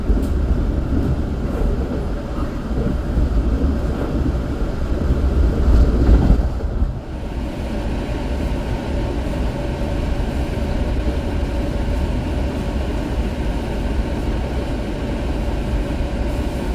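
The Tegal Bahari passenger train, running with modified New Gen economy carriages, gives a steady, loud rumble with rattling and wind roar throughout, briefly swelling and then easing before holding an even drone.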